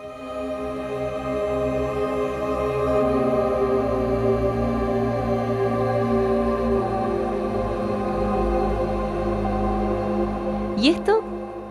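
A song from the film The Odyssey: sustained, layered tones swell steadily and hold loud throughout, with a brief rising sweep near the end.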